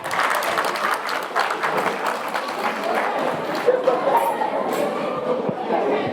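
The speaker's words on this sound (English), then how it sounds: "Another round of applause for the IUM traditional group." Audience applause for a traditional music group at an alumni association event, a loud sustained clapping from a crowd with some cheering mixed in.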